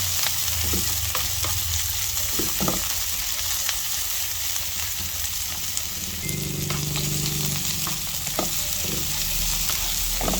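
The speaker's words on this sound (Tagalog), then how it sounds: "gisa tayo ng bawang, sibuyas. Kamatis." Garlic, onion and tomato sauté in a hot pan for breakfast, a steady close sizzle with bursts of stirring and scraping, plus a brief louder hiss near the end as fresh ingredients hit the oil.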